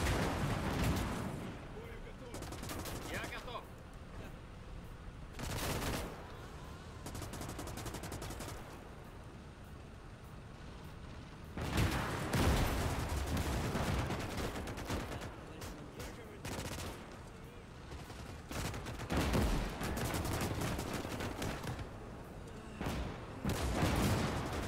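Repeated heavy cannon blasts from a tank in a roleplay video game, loud booming shots spaced several seconds apart amid continuous gunfire and battle noise.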